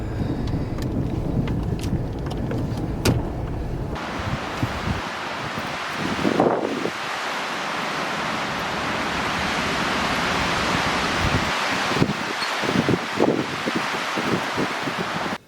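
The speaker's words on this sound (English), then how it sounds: "It's so windy out there, I didn't bring the camera with me." Strong winter wind roars steadily outdoors on a farmstead, buffeting the microphone, with occasional rustling and a few brief knocks.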